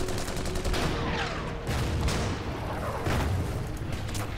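Gunfire and booming shots against artillery in the Order of Battle strategy game, a dense, continuous barrage of cracks and rumbling blasts that swells and repeats throughout, loud and close.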